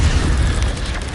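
Stupefy spell blast in the video game Hogwarts Legacy, a single brief deep booming burst, loud and close.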